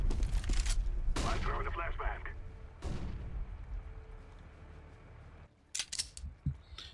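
Gunfire in Counter-Strike: Global Offensive, a few loud close shots with sharp onsets and decaying booms, then quieter clicks and a brief burst near the end, with a voice talking over parts.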